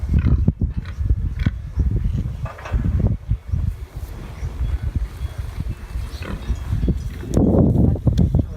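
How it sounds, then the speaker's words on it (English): Pigs in a pen on a Swiss mountaintop, grunting and snorting in close, irregular bursts with a louder squealing outburst near the end, some faint voices mixed in. "More pigs."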